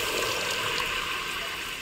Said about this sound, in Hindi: तो अभी क्या करेंगे हम इसमें डाल देंगे पानी